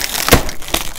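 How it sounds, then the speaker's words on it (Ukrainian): Plastic wrap and tape being pulled off a package, with close crinkling and a sharp tearing rip in the middle followed by a smaller rustle. "Зараз знімемо цю плівочку і скотчик."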